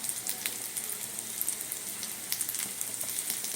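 Fish roe dhoka, a Bengali fish-egg cake, fries steadily in a pan with a dense, crackling sizzle and small pops throughout, heard up close with no talking.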